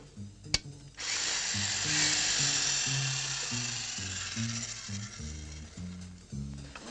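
An electric drill switched on after a sharp click, whining steadily for several seconds alongside a rhythmic low pulsing, fairly close and with no talk.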